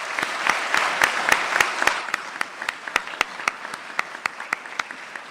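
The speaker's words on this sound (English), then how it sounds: "Let's give a round of applause for Second Lieutenant Eady." Audience applause at an ROTC commencement for a newly commissioned second lieutenant starts as dense clapping, then thins out into scattered, separate claps that fade toward the end.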